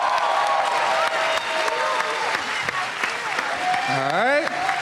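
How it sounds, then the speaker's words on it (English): Applause from a convention panel audience for Catherine Sutherland at Power Morphicon 2018, dense steady clapping with scattered cheers, loud and close, and a voice speaking over the crowd near the end. "I need y'all to start clapping right now."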